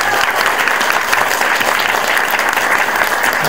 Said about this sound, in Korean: 박수 한번 드릴게요.